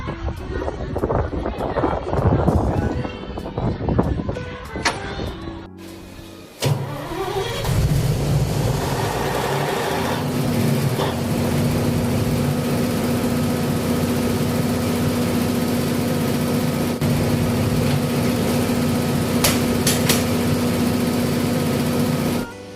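Backup generator for an automatic transfer switch setup: after a few seconds of talk and clatter, an engine cranks and catches, then runs at a steady, loud, droning hum for the rest of the clip.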